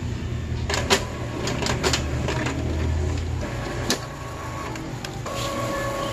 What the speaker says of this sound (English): the printer is trying to print nothing there